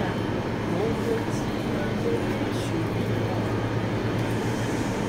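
A modern air-conditioned double-decker train in Paris produces a steady low rumble and hum of rolling wheels and machinery, continuous and close throughout.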